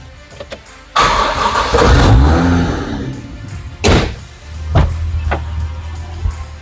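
A Toyota JZX90 car engine cranks and fires up loudly nearby, settling into a low rumbling idle punctuated by a couple of brief revs, with a few clicks beforehand.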